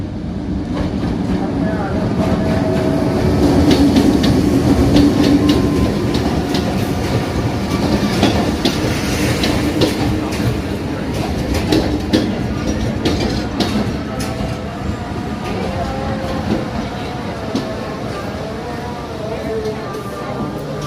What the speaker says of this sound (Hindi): मेरे शक में ये गाड़ी करीब आ रही है